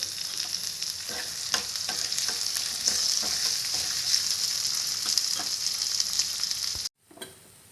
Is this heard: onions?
yes